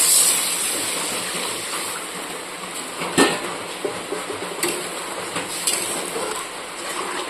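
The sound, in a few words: water poured into cooking pan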